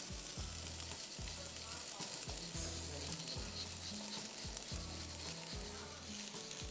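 Salted rice added to a hot shashlik pan, loud continuous sizzling with repeated low scraping thumps of stirring in a regular rhythm.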